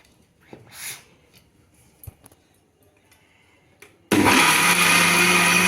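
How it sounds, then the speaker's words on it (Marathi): A kitchen mixer grinder blends green chillies, curd, semolina and water for a batter. A few soft clicks and taps come first, then the motor bursts in suddenly with a loud, steady, close whirring grind. "मिक्सरच्या भांड्यात मिरच्या दही आणि रवा पाणी घालून फिरवून घेणार आहोत"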